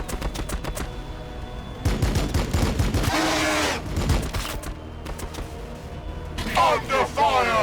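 Rapid gunfire rattles in the Battlesector video game, a Blood Angels campaign battle, with dense bursts of sharp, close shots that stop and start, and voices talking over parts of the firing.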